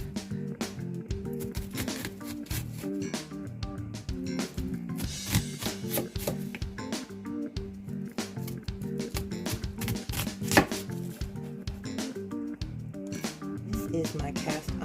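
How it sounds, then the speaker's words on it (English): A knife slices through red onions with crisp, repeated cuts at a steady, fairly quick rhythm, close and at moderate level, with no talking. "I love red onions. And they're sweet. I'm going to go ahead and finish slicing these out."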